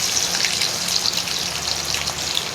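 Mustard seeds, cumin and garlic cloves hit hot oil in a kadhai, making a loud, dense, continuous hiss and crackle for a couple of seconds, with nobody talking.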